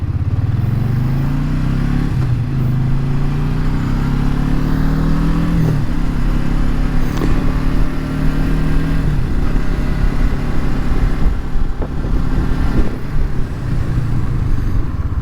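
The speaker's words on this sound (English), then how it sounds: "Get a cold start as well as let it warm up, and you can check to see for like engine noises" A used motorcycle engine idles steadily after a cold start while warming up, a loud, continuous close-up rumble with slight shifts in pitch and light mechanical clatter throughout.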